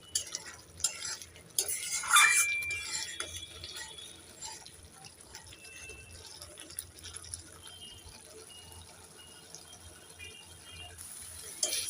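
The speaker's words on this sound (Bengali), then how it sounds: "এখানে আমি তিন মিনিট মশলাটাকে কষবো" Spice masala being stirred and fried in a pan for a Bengali-style fish curry: soft scraping and utensil clinks against the pan, a brief sharper clatter early on, then quiet sizzling and stirring throughout.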